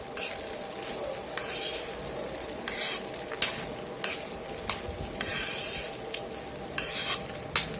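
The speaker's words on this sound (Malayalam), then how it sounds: "നല്ലോണം ഒന്ന് മിക്സ് ചെയ്ത് കൊടുക്കാം" A spatula stirs and mixes cooked ration rice with finely chopped coriander leaves in a frying pan, giving repeated scraping and clattering strokes over a soft, steady sizzle, close up with no talking.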